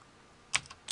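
Two quick, crisp keystrokes on a computer keyboard while code is typed into Xcode, close and fairly quiet over near silence.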